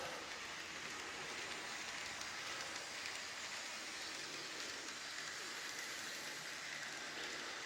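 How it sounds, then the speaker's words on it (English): A model train pulling a rake of four auto train wagons runs around a layout, giving a steady, even rolling rumble that holds at one level throughout with no voices. "Just a rake of 4 auto train wagons on."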